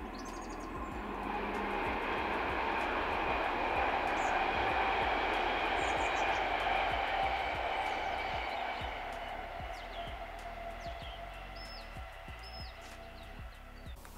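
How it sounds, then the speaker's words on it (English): A Class 60 diesel locomotive comes off the Drax branch at sunset and rumbles heavily and steadily, swelling to its loudest midway and then slowly easing off while it stays fairly close, with no voices over it. "I heard the rumble of a class 60 coming off the Drax branch"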